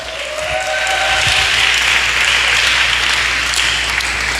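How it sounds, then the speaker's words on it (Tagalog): A church congregation applauds loudly and continuously at a worship service, the dense clapping building slightly and holding steady, with a faint voice briefly audible at the start. "Palakpak."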